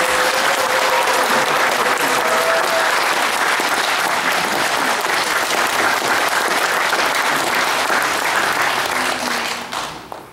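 A large audience at a Korean gathering applauds loudly and steadily as a pastor of Incheon Full Gospel Church is introduced to speak, the dense clapping holding for about ten seconds before fading at the end.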